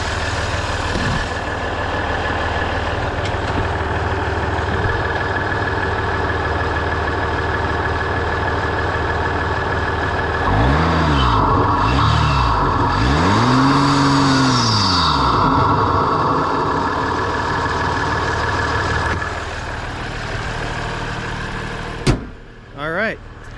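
Idling diesel engine of a WK2 Jeep Grand Cherokee fitted with an Injen cold air intake, a steady close rumble with a brief rev swell midway and a clunk near the end; a voice can be heard in the background.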